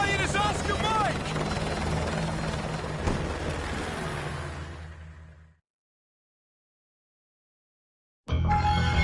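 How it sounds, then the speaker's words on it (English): Military helicopter from the Call of Duty Modern Warfare 2 Remastered game, a loud steady rotor thump and engine roar that fades out halfway, then silence before the roar returns abruptly at the end. "Helicopter."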